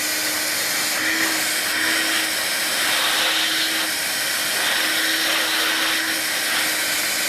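A Vax Air Cordless Lift Duo U85 upright cordless vacuum cleaner runs continuously with a steady high whir and airy suction hiss, loud and close, with slight pitch wavering and no talking.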